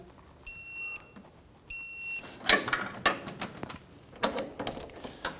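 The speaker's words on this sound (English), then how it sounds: "Hold the front nut while torquing the bolt to 70 foot-pounds." A torque wrench tightens a front control arm bolt on a 2010-2014 Subaru Outback, with two sustained electronic beeps followed by several sharp ratcheting clicks and clunks of metal up close.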